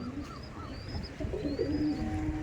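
Pigeons in a loft give soft, low coos, a few rising and falling calls heard nearby but quietly, with no voices.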